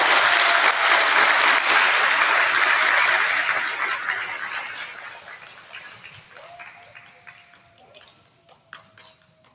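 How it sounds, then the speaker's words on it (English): A school kindergarten awards program audience applauds students called forward, a full, loud burst of clapping that holds steady, then tapers to a few scattered claps, with a faint tone appearing near the end. "Let's give these guys a round of applause."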